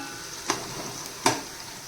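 Chopped onion fries in oil in a pan until golden, a quiet steady sizzle broken by two sharp scrapes of a spoon stirring, close by, with no talking.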